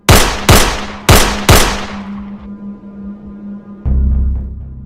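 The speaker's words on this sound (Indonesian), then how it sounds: "Menurut Frank, ia melepaskan tembakan sebanyak 4 kali." Four sharp gunshots fire in quick succession, each ringing out with a decaying echo, followed by a thud and a low hum.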